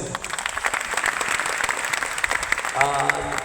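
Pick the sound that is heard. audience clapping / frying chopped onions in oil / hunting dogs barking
audience clapping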